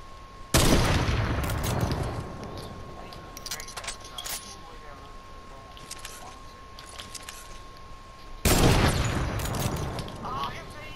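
Gunfire in the video game Fortnite: two sharp, loud bursts of shots at the start and near the end, with quieter clinks and mechanical game sounds between them and a player talking throughout.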